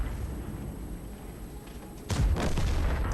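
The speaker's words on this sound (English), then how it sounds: "The E75 is fired." Tank cannon fire in the World of Tanks video game, featuring an E75 and a Black Prince: one sudden heavy boom about two seconds in, rolling into a rumbling tail over a steady engine hum.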